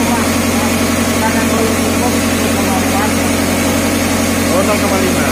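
A Yanmar 6RY16 marine diesel engine runs steadily in a tugboat's engine room, giving a loud, continuous low drone with mechanical clatter throughout, while people talk over it.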